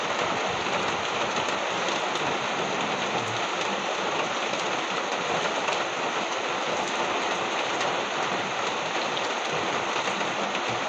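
On a rainy morning, steady rain falls on surfaces nearby and gives a dense, even hiss that stays loud for the whole stretch. No one speaks.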